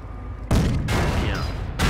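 Sherman tank firing on an enemy Panzer in a war video game, heavy booming cannon shots and blasts in three loud bursts separated by brief gaps, close and dense with rumbling low-end impacts.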